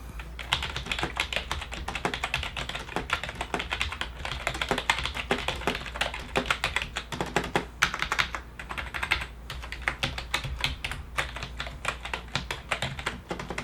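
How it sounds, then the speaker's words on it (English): Steady, fast typing on a Logitech G213 Prodigy keyboard, close up, with dense clicky keystrokes and brief pauses, no voices. "we'll go on to the typing test. Typing on the Logitech G213 Prodigy."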